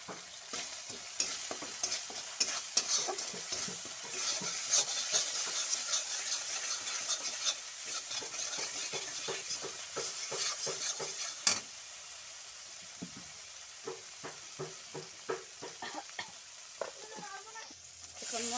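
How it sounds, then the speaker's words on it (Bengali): Pointed gourd and spices sizzle steadily in a hot pan while a utensil stirs and scrapes in frequent clattering strokes, the frying fading briefly before resuming with sharp taps. "মশলাটার সাথে ভেজে নিচ্ছি আর অল্প লবণ দিয়ে দিচ্ছি।"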